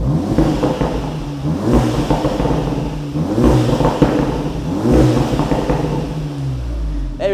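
An Audi S3 8V with a straight-pipe exhaust revs loudly with the valves open, in repeated bursts, each rising blip followed by a crackling drop, close by with no talking.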